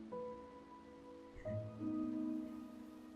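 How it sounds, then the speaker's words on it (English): Rain falling in The Elder Scrolls Castles game, a soft steady patter lying under tonal game music and chimes, with no voices. "It's currently raining outside."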